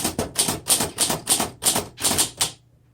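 A 1929 Underwood 4 Bank typewriter with glass keys being typed on: a quick, fairly even run of sharp, close mechanical key strikes with occasional bell-like clinks, stopping abruptly near the end.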